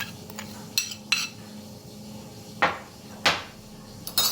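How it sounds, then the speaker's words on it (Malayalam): A utensil beats eggs and sugar for cupcake batter in a bowl, with a few sharp, close taps and knocks against the rim spaced irregularly over quieter mixing. "പഞ്ചസാരയും കൂടെ ഇട്ട് നല്ലപോലെ ബീറ്റ് ചെയ്യണം"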